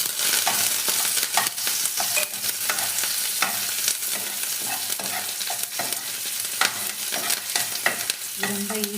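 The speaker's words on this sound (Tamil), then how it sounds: "கொஞ்சம் பொரியட்டும். இது கூட பூண்டும்" Garlic and curry leaves frying in oil with mustard seeds and urad dal for a sweet potato fry, a steady crackling sizzle with frequent spoon scrapes and clicks against the pan, close and continuous with no talking.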